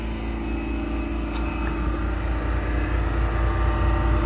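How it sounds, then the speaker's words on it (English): A Boss BA440 hydraulic compressor mounted on a 2022 Kenworth T270 mechanics truck runs with a loud, steady mechanical drone and low engine rumble, slowly swelling slightly toward the end. "It's a Boss BA440 model compressor."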